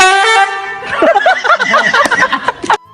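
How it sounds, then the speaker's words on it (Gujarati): A car horn blares in one long steady honk, followed by people laughing and chattering loudly close by. "અને પછી વિચાર્યું કે હોર્ન વગાડીએ એમ"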